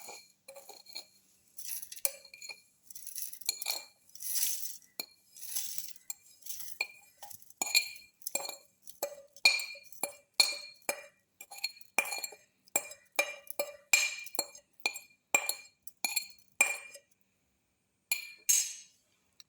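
Dates, raisins, sugar and rice flakes are dropped into a grinder jar, producing a rapid series of light, sharp clinks and taps against the hard container, close and irregular with brief pauses.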